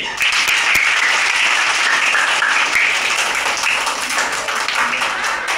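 Schoolchildren in a classroom stand and applaud together, a dense, steady patter of many hands clapping continuously at close range.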